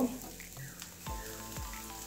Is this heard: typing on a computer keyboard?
no